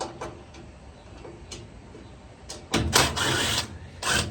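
Phillips screwdriver backing out the front panel screws on a GE dryer, with faint ticking clicks early on, then louder ratcheting scrapes of the bit turning in the screws in short bursts, up close.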